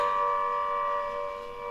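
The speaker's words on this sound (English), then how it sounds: "This is an actual recording of the nuclear warning alarm sirens that they test at the naval bases in Portsmouth" Nuclear warning alarm sirens tested at a naval base in Portsmouth wail in a steady, loud, sustained multi-tone blare with no pauses.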